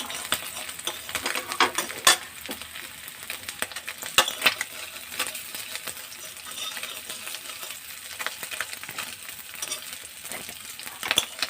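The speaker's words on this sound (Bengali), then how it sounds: "বেশি ভাজিনি, হালকা করে ভেজে নিলেই হবে।" Small mourola fish lightly frying in a pan for a chutney with kul, a soft continuous sizzle broken by sharp scraping and clinking of a utensil stirring and turning the fish, close and alone.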